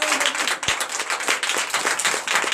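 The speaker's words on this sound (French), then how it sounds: "Donnez encore de l'acclamation." Church congregation clapping in applause during a Sunday worship service in Comè, Benin, a dense steady patter of many hands filling the room, with faint voices underneath.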